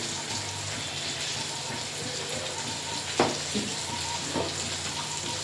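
Ground spice pastes of ginger, cumin, garlic, chilli and turmeric sizzle steadily in hot oil in a village kitchen, a dense continuous frying hiss with a few soft stirring knocks near the middle.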